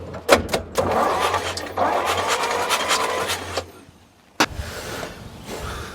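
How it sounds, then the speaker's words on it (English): A Chrysler car engine cranks with a rhythmic, chugging starter whir for several seconds without catching, then stops, followed by a single sharp clunk and faint background noise. "we're gonna crank it again"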